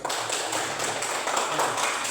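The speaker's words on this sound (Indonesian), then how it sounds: "Tepuk tangan untuk Rikem." Group applause for a student in an Indonesian classroom, a dense steady patter of many hands clapping together for about two seconds with no talk over it.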